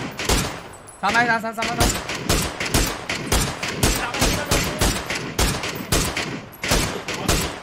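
Rapid gunfire bursts in the video game PUBG, loud repeated volleys of sharp shots in quick rhythm, with excited voices talking over the shooting.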